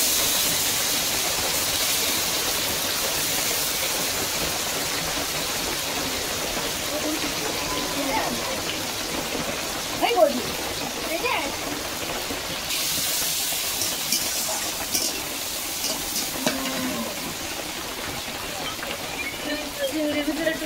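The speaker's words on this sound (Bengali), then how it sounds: "তেল গরম হয়ে গেছে, এখন আমি জিরে দিয়ে দেবো, তেজপাতা দিয়ে দেবো, এবারে যে চিংড়ি মাছগুলো দেবো" Prawns hit hot oil with cumin and bay leaf, producing a continuous bright sizzling hiss with scattered pops and crackles while someone talks throughout.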